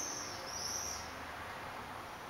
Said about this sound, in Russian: Птички. Стрижики.